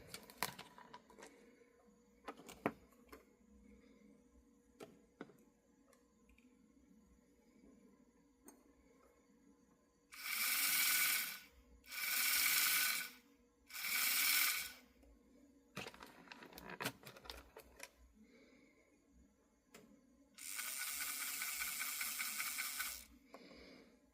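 HO scale Penn Line 2-10-0 model steam locomotive on powered track, quiet ticking and clicking mechanism with several bursts of loud, whirring motor noise, each lasting a second or so, then a longer run near the end.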